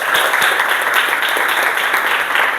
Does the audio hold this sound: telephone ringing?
no